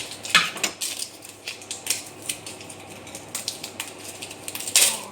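A big, chunky kitchen knife taps and chops through a large onion on a cutting board in a home kitchen, producing a loose run of sharp, close knocks with no talking.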